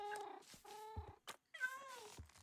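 A cat in a video game meows several times in quick succession, short clear calls separated by brief gaps. They sound close and stand alone against silence.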